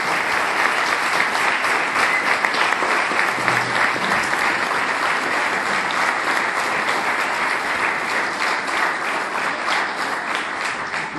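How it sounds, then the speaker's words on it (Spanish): Church congregation applause, a loud sustained wash of many people clapping together, continuous and even throughout. "Denle un aplauso al Señor en esta noche."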